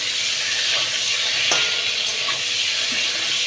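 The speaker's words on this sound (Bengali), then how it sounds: "এবার ওই তেলের মধ্যেই আমি আগে থেকে ভালো করে ধুয়ে রাখা বেগুনগুলো কেটে রেখেছিলাম, সেটা এবার এর মধ্যে দিয়ে দিচ্ছি।" Cut eggplant pieces fry lightly in hot oil with a constant, close sizzle. A few soft pops and stirring sounds come through, and no one talks.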